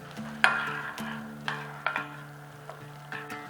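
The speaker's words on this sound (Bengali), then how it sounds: "পুরো জিনিসটাকে বেশ সুন্দর করে মিশিয়ে নিচ্ছি, যাতে একদম মোলায়েম হয়ে যায় দইটা।" Spoon stirring yogurt mixed with rice flour, a little sugar, ground coriander and ground cumin in a bowl for a vegetarian paneer dish, giving soft repeated scrapes and light clicks against the bowl, close and alone.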